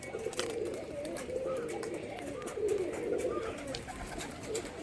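Rajshahi Giribaz pigeons coo in low, throaty, repeated warbles close by, a steady murmuring call over faint background noise.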